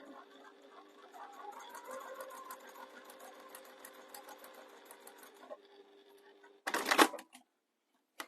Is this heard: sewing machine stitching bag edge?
yes